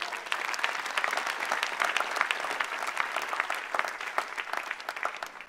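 A church congregation applauds steadily throughout, dense clapping at close range with a faint crowd murmur beneath.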